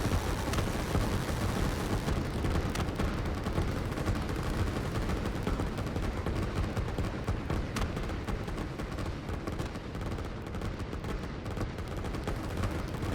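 Rockets fire in the strategy game Line War amid a dense, continuous roar of gunfire and explosions that stays loud and busy throughout.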